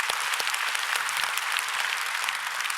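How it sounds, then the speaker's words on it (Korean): Church congregation applauding during a sermon, a dense steady wash of clapping from many hands that holds at an even level throughout, with no voices over it. "박수 좀 한번 쳐주고 싶습니다."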